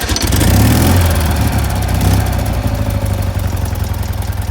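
A BMW R50/2 flat-twin motorcycle engine idles loud and close on a freezing cold day, running slightly rich, with a steady low throbbing pulse and a brief rise in revs around the first two seconds.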